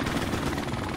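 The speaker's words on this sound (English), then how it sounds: "Friendly helicopter on the way" A friendly helicopter in a video game passes overhead, a steady moderately quiet rotor throb with a rapid low thumping pulse, continuous throughout with no talk.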